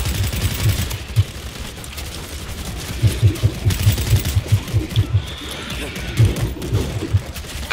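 Automatic machine gun fire in the zombie shooter game World War Z comes in rapid, loud bursts of thudding shots, several volleys with short pauses between them over a dense background of game noise.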